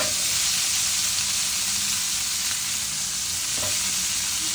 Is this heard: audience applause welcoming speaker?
no